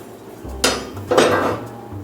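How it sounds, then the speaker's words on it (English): Cast-iron charcoal grates from vintage BSR and modern Lodge Sportsman grills clank as they are handled, giving two distinct metallic knocks followed by lighter scraping, close by with no speech. "these are the grates on which the charcoal sits"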